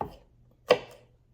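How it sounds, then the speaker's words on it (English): A knife chops garlic on a cutting board, two distinct close taps about half a second apart against otherwise near silence. "So we're going to mince this up very finely,"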